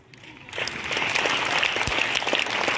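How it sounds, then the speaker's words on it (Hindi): A room of students breaks into applause for a prize winner at a school award ceremony, the clapping starting from near silence and quickly building into steady, dense, enthusiastic hand claps that hold through to the end. "एक जोरदार ताली होनी चाहिए"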